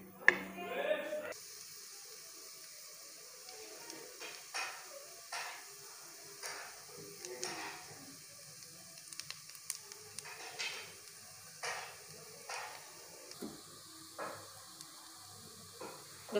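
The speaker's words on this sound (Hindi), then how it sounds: "अच्छी तरह भूनना लहसुन को, इसका कलर चेंज हो जाए।" Garlic frying in a pan for a spicy chicken macaroni: a soft, steady sizzle and hiss heard close up, with faint scattered stirring clinks and no one talking.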